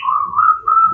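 A white-rumped shama, a murai batu kept for song competition, gives a single sustained clear whistled call lasting about a second, loud and close, with no talk.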